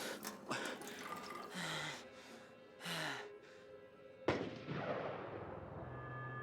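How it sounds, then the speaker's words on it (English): A single sharp gunshot cracks out in the game As Dusk Falls, a loud sudden blast ringing into a decaying tail, preceded by breathy sighs and quiet ambient sounds. "I heard a gunshot."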